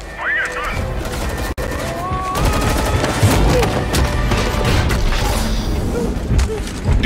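Rapid bursts of gunfire ring out during the Fortnite Chapter 2 Season 8 final event, dense and continuous within a busy mix of game effects and booms.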